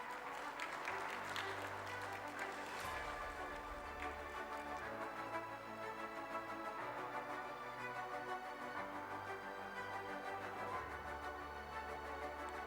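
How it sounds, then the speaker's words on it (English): Audience applause at an IIT Kharagpur NPTEL award felicitation, continuous clapping from a hall crowd, steady and loud, with music-like sustained tones underneath. "Please clap your hand."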